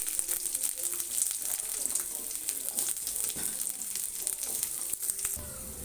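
Green, red and yellow capsicum fry together in a pan, a loud continuous crackling sizzle close by with occasional stirring scrapes, no voices.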